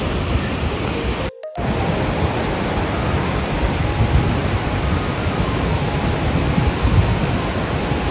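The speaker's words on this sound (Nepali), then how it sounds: "तल यस्तो दामी खोला बगिरहेछ।" Steady broadband rush of a mountain river flowing below a trail near Syabrubesi on the way to Langtang, continuous and loud with no voices.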